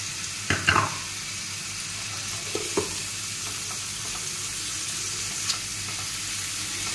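Onion-garlic paste frying in a pan, a soft continuous sizzle with a few spoon scrapes and taps near the start and middle, close and fairly quiet, no one talking.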